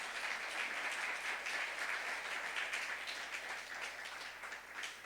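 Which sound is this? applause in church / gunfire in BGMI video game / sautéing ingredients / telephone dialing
applause in church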